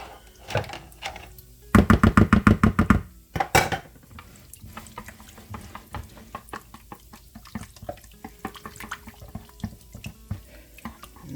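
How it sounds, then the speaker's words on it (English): A casserole mixture thickened with sour cream and cream soups being whisked in a bowl: a quick burst of rapid, sharp clinking strokes, then scattered softer taps and scrapes, close-up and with no talking. "let me go ahead and get this whisked up"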